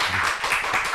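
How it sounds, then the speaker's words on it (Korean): A church congregation claps in welcome for a guest at a Sunday service, a brief burst of dense, close applause lasting about a second with no voices over it. "박수로 한번 안녕하겠습니다."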